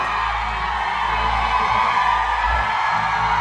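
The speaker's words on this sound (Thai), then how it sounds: "เราลองแบบกรี๊ดแบบ ไม่หยุดได้ไหม" A crowd at a Thailand Top Vote awards event at Pratunam screams and cheers without pause, a loud, sustained wall of voices through the whole stretch.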